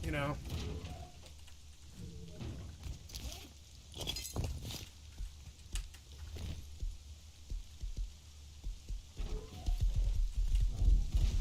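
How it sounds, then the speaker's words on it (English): Horse hooves clop along a road while riding in the game Rust, soft irregular thuds under light rain-like patter and ambient game noise, moderately faint. "I ride my horse on down to the road"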